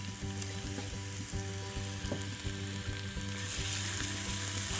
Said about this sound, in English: in the oil I'm going to saute some vegetables. I've got a grated carrot, and I've also got a couple of spring onions that I've chopped